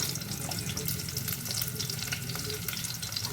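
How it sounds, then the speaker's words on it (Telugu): Chopped onions fry in hot oil in a pan, a dense, close sizzle with busy crackling and faint stirring, steady throughout with no talk. "ఆయిల్ హీట్ అయిన తర్వాత ఆనియన్స్ అనేది వేస్తున్నాను"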